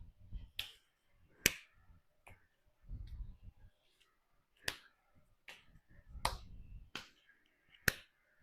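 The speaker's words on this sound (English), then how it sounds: "Clapping the hands in the middle." Hands clapping in sharp single claps during a seated upper-body workout, about nine crisp, evenly spaced claps with quiet gaps, faint movement sounds between them.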